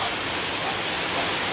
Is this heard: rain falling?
yes